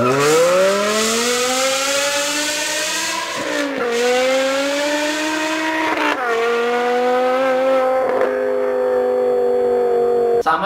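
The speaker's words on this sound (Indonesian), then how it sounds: "Yang pertama itu suara mesinnya M5 E60 V10." A BMW M5 E60 V10 engine revs hard and climbs in pitch, dropping briefly between gear shifts before surging again, loud and close.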